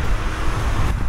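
Road traffic on a busy, lit route at night, a dense continuous roar of passing vehicles, loud and close, with no voices.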